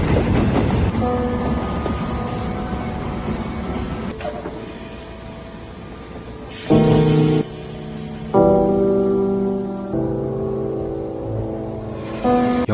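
Train rolling along in a film scene at a station, a low steady rumble beneath layered sustained music tones that swell in loud bursts toward the end.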